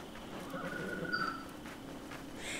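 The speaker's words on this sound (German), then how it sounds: "Ich habe mir übrigens ein schwarzes Pferd gekauft." A horse in the Assassin's Creed Mirage video game neighs with a short high whinny over faint hoof clops and background game ambience, quiet and brief without clear speech.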